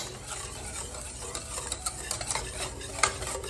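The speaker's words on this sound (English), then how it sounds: "while it's simmering, you're going to keep stirring until it thickens" A spoon keeps stirring chocolate ganache as it simmers over very low heat in a pot. There is a soft, steady bubbling hiss with light scraping and the odd clink near the end, close and quiet, with no talking.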